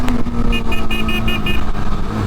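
A Yezdi Scrambler motorcycle engine runs loud and close, holding a steady, throaty drone while accelerating, with no speech over it.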